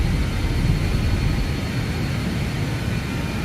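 A BAe 146-300 airliner in a flight simulator rolls down the runway on its takeoff run, a steady broadband roar of jet engines with low rumble, continuous and fairly loud with no talk.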